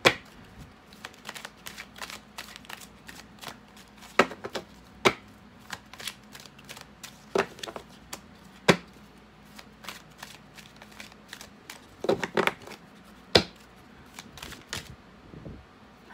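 Tarot cards shuffled by hand in a quiet room, a long run of soft riffling with irregular sharp snaps and taps spaced across the whole stretch, close and fairly faint, no voices.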